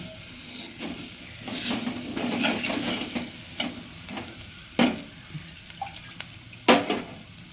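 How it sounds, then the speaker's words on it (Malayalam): Water is poured into chili masala in a hot pan for a fishless curry, giving a loud sizzle and hiss broken by sharp stirring scrapes and splashes, close up, with no talk. "ഇനി അതിനേക്ക് സ്വല്പം വെള്ളം കൂടെ ചേർത്ത് കൊടുക്കും"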